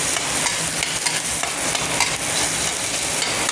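Chili and garlic sizzle loudly in a hot wok, a constant crackling fry with stirring scrapes, close up and uninterrupted.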